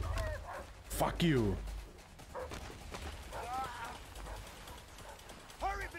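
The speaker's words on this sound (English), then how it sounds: "Fucking dog!" Dog barking and yipping in the video game A Way Out, a few sharp barks and whimpers heard under loud, frantic shouting from players.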